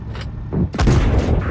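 In World of Tanks Blitz, a tank cannon fires and an explosion follows: a short boom, then a louder, heavier blast with a lingering rumble, close and alone.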